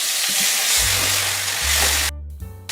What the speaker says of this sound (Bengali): এবার আমি এই মশলার সঙ্গে কুমড়োটাকে ভেজে নেব